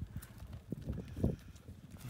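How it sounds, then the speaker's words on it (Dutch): Hooves clip-clop along a road in Friesland as a small herd of cows heads home, with steady, fairly close footfalls and no talk. "Dan moet je midden in het Friesland wachten op een stelletje koeien die weer terug naar huis moeten."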